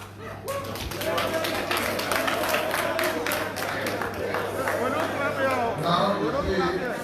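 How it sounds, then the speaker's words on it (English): Audience clapping breaks out at a national elections commission chairman confirmation hearing, a steady patter of many hands in a large room with voices murmuring underneath throughout. "Now you see, you are clapping again"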